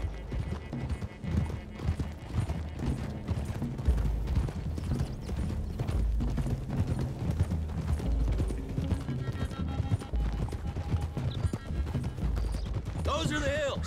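Horse hooves clip-clop steadily in Red Dead Redemption 2 as riders travel a road toward hills, rhythmic and continuous under frequent male dialogue, with a brief whinny near the end.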